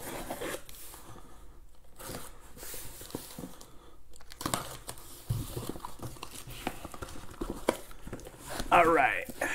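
A sealed case box of 2020 Panini National Treasures Baseball trading cards is torn open from the bottom, with crinkling tape, ripping cardboard and rustling plastic up close, mixed with ongoing talk.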